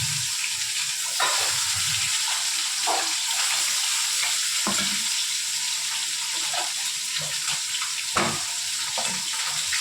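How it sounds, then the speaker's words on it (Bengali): An egg mixed with turmeric fries lightly in hot oil, giving a continuous bright sizzle with occasional soft knocks and scrapes, steady and close, with no voices. "তেলে ভেজে নেব"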